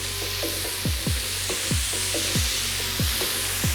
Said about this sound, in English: Next thing we're gonna add is some ground pork.